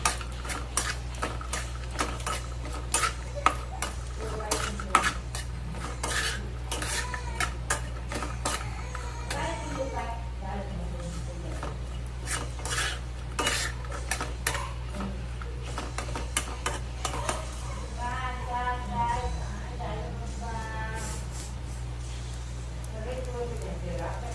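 Chopped coconut pieces roast in oil in a pan, with a steady run of sharp metallic scrapes and clinks from a spoon being stirred against the pan at close range.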